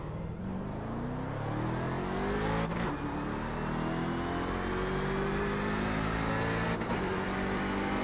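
Race car engine in iRacing's Grand Am series at Watkins Glen, a continuous loud engine note climbing in pitch through repeated gear shifts, with two brief dips at upshifts.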